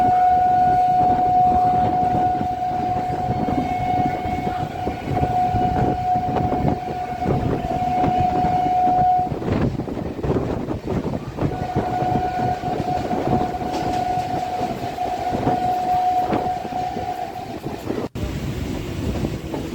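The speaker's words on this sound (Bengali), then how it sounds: "দেখুন এখানে আমাদের ট্রেনটা কেমন বাঁদিকে ঘুরে যাচ্ছে" A Kolkata Circular Rail train swinging left off the main line after Bidhannagar, with a steady loud rumble of wheels and a long high wheel squeal that breaks off and returns, heard from on board with no talk.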